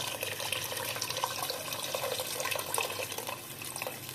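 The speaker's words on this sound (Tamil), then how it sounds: "அந்த புளி தண்ணி கரை சேர்த்துக்கலாம் லெமன் சைஸ் அளவுக்கு" Tamarind water, made from a lemon-sized ball of tamarind, is poured into a pot of Tamil fish curry (meen kulambu). It makes a soft, continuous splashing and trickling of liquid at low level for a few seconds.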